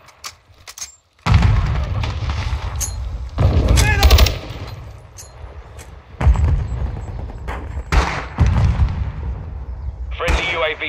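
Modern Warfare 2 team deathmatch gunfire comes in loud repeated bursts of rapid automatic shots separated by short lulls, with in-game voice callouts mixed in between volleys.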